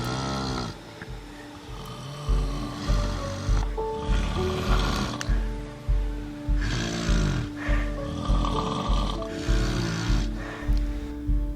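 A sleeping person snores loudly in a steady rhythm, each rasping inhale repeating roughly every second and a half, close up throughout.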